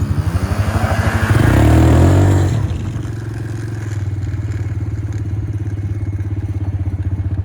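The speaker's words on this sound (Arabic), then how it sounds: "يلا سباق بين الدباب وحصان" A quad bike engine revving hard at close range during a race against a horse, loud and rising, then settling into a steady throbbing idle-like drone.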